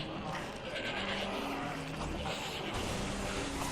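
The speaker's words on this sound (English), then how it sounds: "was this the only game with like a weird like Satan goat noise" A distorted, demonic goat-like bleat from the Shadows of the Damned video game, loud and continuous for a few seconds over a dense, noisy game soundscape.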